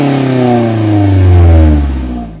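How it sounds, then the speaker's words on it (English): A 2021 Toyota Corolla Apex Edition engine revs up through its sport-tuned exhaust, rising to a deep, throaty roar and then easing back down, loud and close. "the Apex Edition gets a sport-tuned exhaust"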